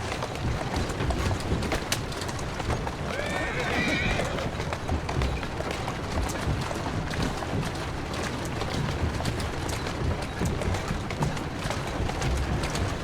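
In Assassin's Creed Syndicate, a horse whinnies while its hooves clip-clop steadily, pulling a carriage through a busy Victorian London street, with birds and pigeons in the background and voices talking over the scene.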